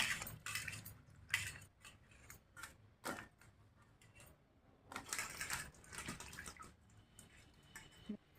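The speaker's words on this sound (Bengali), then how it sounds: "এবার আলু মূলাগুলো ভালো করে ধুয়ে নেব" Potatoes and radish being washed in a water-filled bowl, with close splashing and scattered clinks and knocks as the pieces are rubbed and turned, coming in short irregular bursts at low volume.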